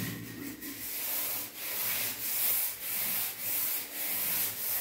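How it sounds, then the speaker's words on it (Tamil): Bathroom floor being scrubbed by hand, a steady brushy rubbing with rhythmic strokes about once a second, close and fairly loud with no talking. "அந்த தரையை நீங்கள் அப்படியே தேய்க்கணும்"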